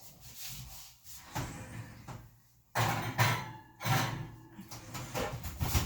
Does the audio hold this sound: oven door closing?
yes